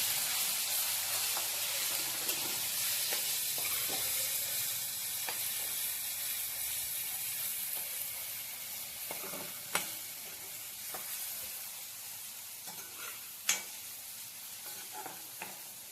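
Raw mango chutney with turmeric cooking in a pan, a continuous close sizzle punctuated by repeated light scraping and stirring clicks, a few louder taps near the end, with no one speaking.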